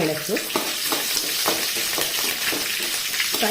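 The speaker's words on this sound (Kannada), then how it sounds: "ಮೆಣಸನ್ನು 1 ನಿಮಿಷ ಹೀಗೆ ಫ್ರೈ ಮಾಡಿಕೊಳ್ಳುವ." Cut green chillies fry in oil with urad dal and curry leaves, a loud, dense crackling sizzle with repeated scraping stirs close by.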